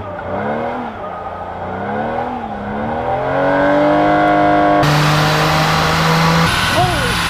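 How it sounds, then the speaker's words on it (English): A BMW E36 M3 on the move on Utah mountain roads, its engine note rising and falling through the gears and then holding a loud, steady high rev, with a voice speaking over it. "now it is time for me to get in this E36 M3 and go for a drive"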